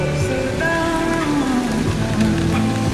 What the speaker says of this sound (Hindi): बारिश बहुत जोर से आने लगी है